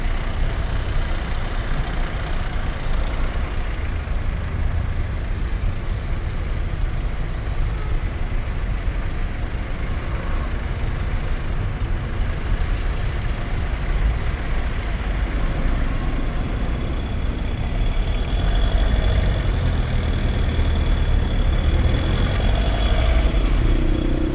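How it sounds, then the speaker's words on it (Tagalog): Continuous road traffic with trucks and buses rumbles on a rainy ride on a Fortress 160 motorcycle, with a dense steady engine roar and hiss of wet tires and passing heavy vehicles close by. "Traffic."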